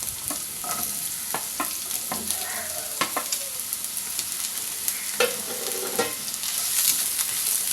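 Chopped green chilies and onion pieces fry in a pan for egg rice, giving a soft, steady sizzle broken by sharp clicks and scrapes of a spatula stirring.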